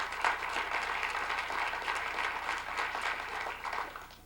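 An audience at a public leadership talk claps in a dense, steady patter of many hands for several seconds. The applause sounds moderately distant and gradually thins toward the end.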